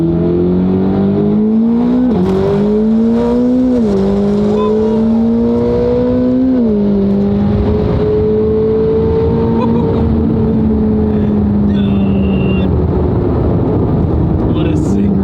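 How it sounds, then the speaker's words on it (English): A Corvette C8 ZR1X and a C8 ZR1 roll race from 60 to 130 mph, engines roaring loud and continuous with rising pitch sweeps through several gear shifts, heard from inside a car. "All right, we got another roll race against the ZR1X."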